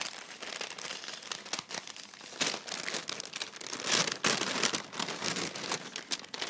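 A plastic packet from a marker subscription box crinkles and rustles as it is opened, producing continuous close, uneven crackling that swells louder midway and never pauses.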